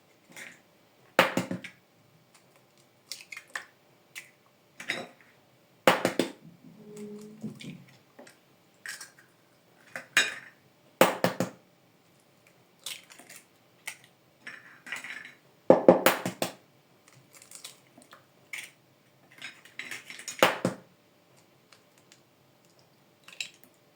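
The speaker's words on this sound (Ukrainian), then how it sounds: "Беремо велику миску і туди вбиваємо 6 яєць." Six eggs being cracked into a large bowl while mixing Easter bread (paska) dough: scattered sharp taps and clicks of shell against the bowl rim, with brief wet plops, fairly close and moderate, no talk.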